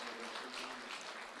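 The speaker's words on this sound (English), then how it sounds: "Recchia getting a warm applause from the fans" Football crowd at a Victorian Premier League match between South Melbourne and Green Gully in 2010 applauds a substituted player with a steady, distant wash of clapping across the stadium.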